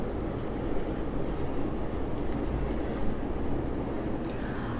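Pen or chalk writes the word handloom, a soft continuous scratching and rubbing that runs steadily throughout, faint and close with no speech over it.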